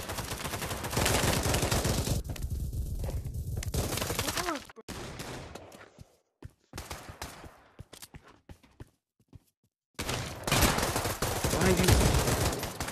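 Rapid bursts of gunfire in the Pavlov VR shooter game, loud and dense, with a quieter stretch of scattered single shots in the middle before heavy firing resumes.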